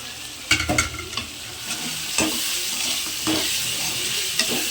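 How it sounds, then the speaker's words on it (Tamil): Mushrooms frying in a pan with a steady sizzle and occasional scraping stirs of a utensil. "அடுத்தது நம்ம கட் பண்ணி வச்சுருக்கிற காளானை இதில் சேர்த்துக்கலாம்"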